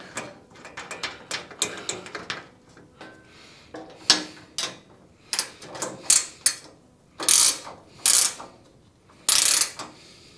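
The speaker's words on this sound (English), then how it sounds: "You got to hold that while you tighten this outer nut up." A ratchet works 12 mm nuts on the gas strut of a Harbor Freight five-drawer tool cart, giving bursts of quick close clicking that are broken by pauses and louder metallic strokes, with no voices.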